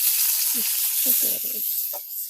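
Chillies fry in hot oil in a pan with a loud, continuous bright sizzle, broken by a few short low bursts of stirring or spattering.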